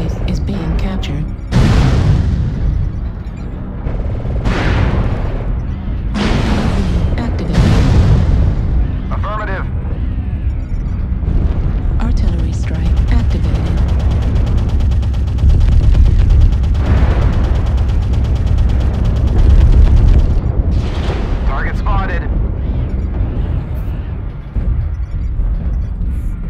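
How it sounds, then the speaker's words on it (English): An artillery strike in a video game brings repeated heavy booming explosions with deep rumbling tails, loud and close, overlapping into a sustained roar while game voices call out over it. "Artillery strike online."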